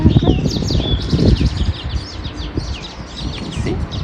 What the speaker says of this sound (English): Lots of birds flying by because the neighbor's got a bird feeder out.